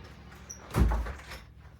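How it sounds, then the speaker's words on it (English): A door closes in a home with a single muffled thud, followed by a short low rumble and quiet room tone. "I'm going to close my door."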